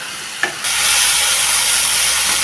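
Potato and cauliflower sautéing in a hot pan: a steady, loud sizzle with a brief stir at the start, close by and continuous.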